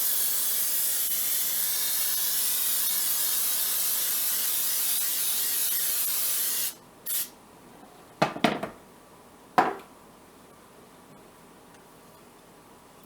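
Plain cooking spray hisses into a cake pan in a few short bursts, with a long steady hiss and then three quick sprays, close and clear with no talking.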